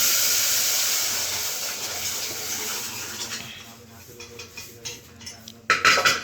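A pressure cooker cooking rice in a home kitchen lets out a strong steam hiss that fades over a few seconds, giving way to quieter kitchen clatter and a few light knocks.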